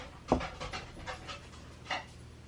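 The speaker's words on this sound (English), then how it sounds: "My hound dog." A hound dog pants in quick breathy bursts close by, with a few louder huffs scattered over a steady low background hum.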